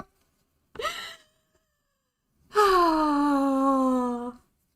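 A short chirp-like cat call followed by a longer, drawn-out meow, close and clear against silence.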